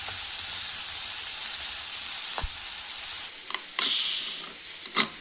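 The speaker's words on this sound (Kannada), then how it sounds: "ಎಣ್ಣೆನಲ್ಲೇ ಫ್ರೈ ಮಾಡ್ಕೊತೀನಿ" Eggplant and capsicum fry in hot oil with a steady, close sizzle that runs throughout, broken near the end by a few sharp scrapes and stirs.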